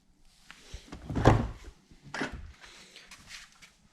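A Tesla Model 3 car door eased shut during a body inspection, giving a couple of soft, muffled thunks close by with quiet handling noise around them.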